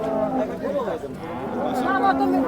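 A cow lows at a busy cattle market, a long drawn moo heard near and fairly loud against background chatter and voices of traders.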